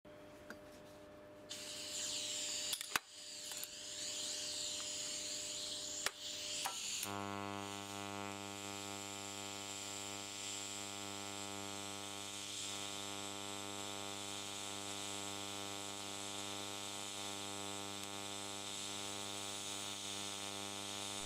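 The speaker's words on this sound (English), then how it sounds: "And now I tried TIG welding." TIG welding with argon shielding on a cheap stick welder makes a steady electrical buzz and hum, crackly at first, then a sustained tonal drone for the rest of the clip, fairly quiet with no talking.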